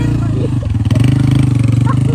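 A motorcycle moves past on a village road, its engine giving a steady, rumbling drone for a couple of seconds, with voices talking over it.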